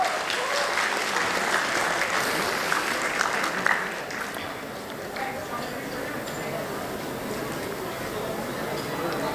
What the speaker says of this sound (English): I would like the audience to give a huge round of applause for Dr. Orithro Paul.